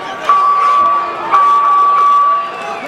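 Crowd noise at an Island Fights amateur boxing bout, a broad roar of cheering and shouting that swells twice and holds loud through the clip, with a steady tone running over it.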